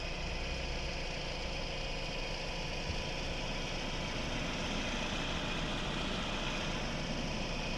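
A 2005 BMW 318 E46 with a 1.8 naturally aspirated petrol engine of 116 hp and an automatic gearbox idles steadily, a smooth, even hum without revving.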